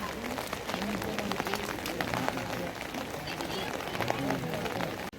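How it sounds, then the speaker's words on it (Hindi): Morning rain falls in the mountains on the Amarnath Yatra route, with snow on the peaks above. A steady, dense hiss of rain runs unbroken throughout, with muffled voices mixed faintly into the background. "अभी सुबह के 9 बज रहे हैं और अभी हो रहा है बारिश।"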